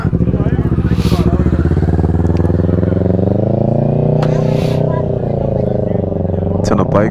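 Sport motorcycles idling and rumbling at a bike night in NYC, a loud, steady engine drone with a slight rise in pitch, close to the listener.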